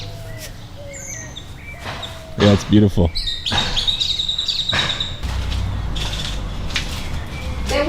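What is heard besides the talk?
birds chirping in the morning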